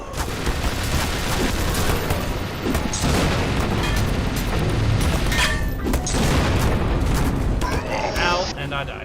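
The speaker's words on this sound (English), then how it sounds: "Machine gun." In a shooter video game, a machine gun fires continuously amid heavy booms and blasts, loud and dense throughout, with someone talking over the din.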